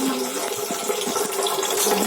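Water runs from a tap into a jug in a home kitchen, a steady, slightly gurgling stream filling the vessel continuously at close range with no voices.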